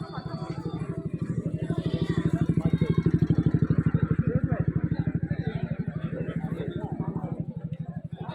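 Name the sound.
motorcycle passing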